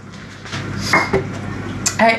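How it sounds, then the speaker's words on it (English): A spoon scrapes and clinks against a pot while leek and potato soup is stirred, with a few close metallic knocks over a quiet background. "And now it's just needing to be stirred."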